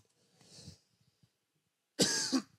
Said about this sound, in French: Alors, excusez-moi pour la toux.